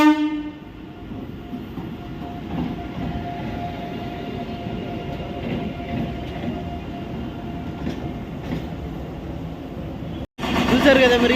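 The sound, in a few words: train passing near underpass construction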